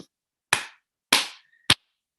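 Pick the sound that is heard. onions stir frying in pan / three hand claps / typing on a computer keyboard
three hand claps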